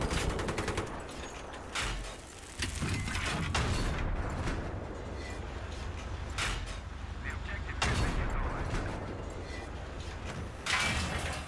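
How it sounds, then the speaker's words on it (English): Enemy tank firing on the player in Battlefield 3, with dense, loud rolling bursts of gunfire and heavy blasts through the whole stretch, dense battle noise with a player talking over it. "jetzt werde ich vom Panzer beschossen"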